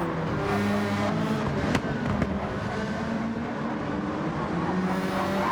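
Several Peugeot RCZ race cars in the Gran Turismo 7 video game drone together in a continuous loud engine roar, layered with slight pitch shifts from shifting and a couple of brief sharp clicks.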